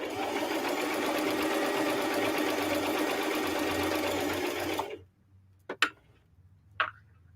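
A domestic sewing machine running a zigzag stitch on a sweatshirt, a fast steady mechanical whir and rapid ticking for several seconds, then stopping abruptly, followed by a few sharp clicks.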